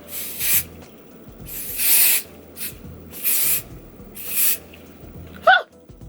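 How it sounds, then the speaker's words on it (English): Several short hissing bursts of aerosol hair spray onto a hairline during a wig install, close up, separated by brief pauses, ending with a quick sharp breathy sound. "We're going to spray our hairline one more time."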